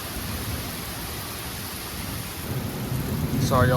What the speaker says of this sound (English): This is a big lightning storm. Big time lightning storm.